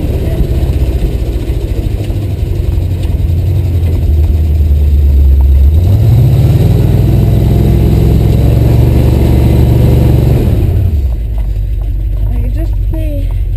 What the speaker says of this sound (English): was finding out how hard it is to keep on its tracks when all four tires are spinning